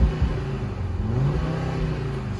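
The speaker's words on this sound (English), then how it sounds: "Let's give it a little rev." A 2014 Audi RSQ3 with a 2.5-litre TFSI engine, quattro drive and seven-speed automatic gearbox revs close by, a loud steady engine drone that holds and swells slightly across the burst, with no talking.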